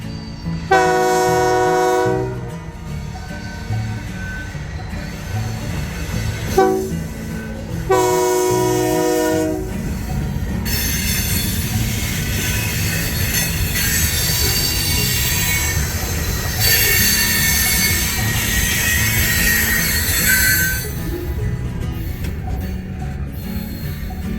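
An Alexander Railroad train rolls past just east of Stony Point, North Carolina, with loud, sustained metallic wheel squeal, preceded by two blasts of a horn, the rumble and screech continuing steadily.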